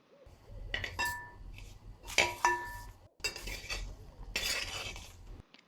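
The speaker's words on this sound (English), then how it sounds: "Add half cup of chili powder and mix it." Chili powder being stirred into a browned, roasted mix of coconut and curry leaves in a pan, indoors, giving bursts of scraping and clinking utensil sounds over a low steady rumble.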